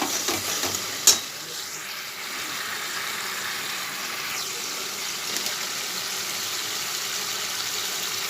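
A paste of ginger, cumin and green chilli sizzles steadily in hot oil, a dense, even frying hiss that carries on with a brief clink of a utensil near the start and no talking.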